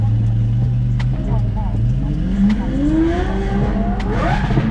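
Lamborghini and McLaren supercars at a car meet rumble nearby with a deep engine note. One engine revs and rises steadily in pitch toward the end, and people talk over it.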